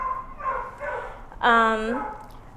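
A beagle-Labrador mix hound gives a single loud, drawn-out bark-howl up close, following a stretch of talking and lower background sounds.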